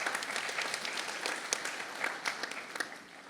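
A crowd applauds steadily, a dense patter of clapping that holds for a few seconds before tapering slightly.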